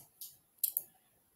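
Several quiet, crisp computer mouse clicks, one single click and then a quick double or triple, heard close in a quiet room.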